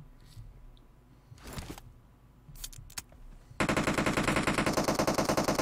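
Gunfire in a Squad shooter video game: scattered isolated shots and quiet background noise, then a loud, sustained burst of rapid automatic fire that runs steadily to the end, with no voices.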